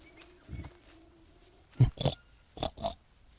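A wild boar in the jungle survival game Green Hell gives a low snort, then two pairs of close, loud grunts in quick succession.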